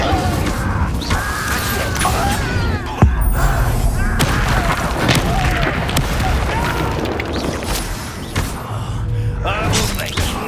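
An Incendio fire spell cast in Hogwarts Legacy amid a busy fight, a sustained, roaring whoosh with scattered booms and thuds, one heavy impact standing out near the middle, loud throughout.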